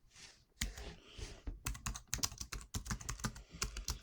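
Typing on a computer keyboard at a Mac, close and crisp: a quick irregular run of key clicks with short pauses, alone with no talking.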